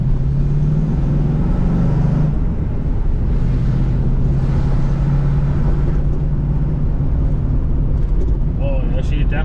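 A 1983 Mercury Capri RS, run again after sitting for nine years, rumbles loud and close with a deep, uneven idle that wavers slightly throughout.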